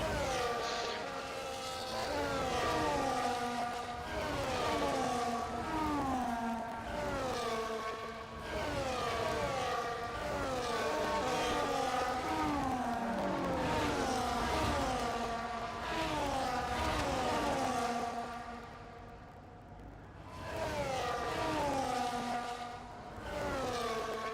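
Race cars on the formation lap at the Spain circuit in F1 24, a continuous blend of engine whines rising and falling in pitch as the pack drives around together, fairly loud, with a brief dip near the end.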